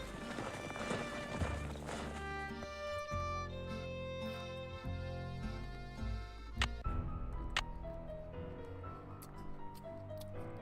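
Horse hooves clopping in the game Nancy Drew: The Secret of Shadow Ranch, a steady rhythmic beat set under a layer of background music and ambient sound.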